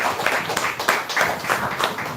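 An audience at a prize draw breaks into lively applause, a dense run of rhythmic clapping close and loud from start to finish, with little voice beneath it.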